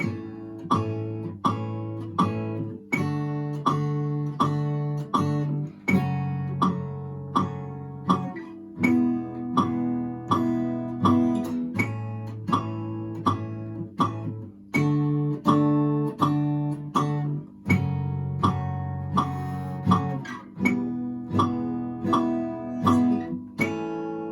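Strummed chords move through a repeating 1-4-6-5 progression in steady rhythm, each change landing on the beat over a faint ticking metronome click, with no voices.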